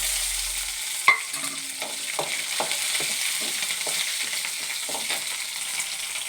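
Ginger, curry leaves and green chillies fry in a pan with a steady close sizzle, a spoon stirring and scraping in a loose rhythm, and no one speaking.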